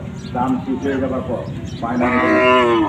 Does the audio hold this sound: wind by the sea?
no